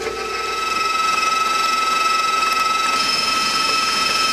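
An electric stand mixer with a paddle attachment creams pie batter for a Mississippi mud pie, giving a steady, even whirring hum that runs unbroken and alone, without talk, for the whole stretch.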